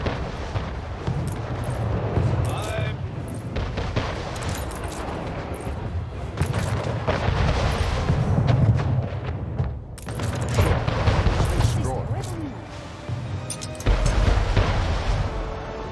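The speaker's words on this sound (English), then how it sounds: "Ship was destroyed." Booming cannon fire and explosions as a ship is destroyed in a naval battle in Anno 1800, with heavy, rumbling salvos rolling on and off throughout, loud and dense.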